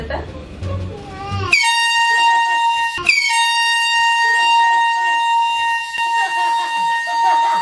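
A loud, sustained air horn blast goes off as a prank on a dad, cutting off talk and holding for several seconds with a brief break partway through. Muffled voices are heard faintly under it.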